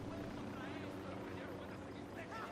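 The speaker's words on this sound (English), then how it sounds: "Oh, the helicopter spotted me." A helicopter in Tom Clancy's Ghost Recon Wildlands hovers nearby with a continuous whirring rotor drone, with faint voices underneath.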